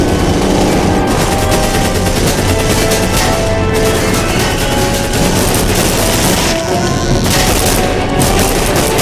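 Gunfire in the video game Wolfenstein (2009) at a train station: loud, dense bursts of rapid shots crackle almost without pause, with brief dips between volleys.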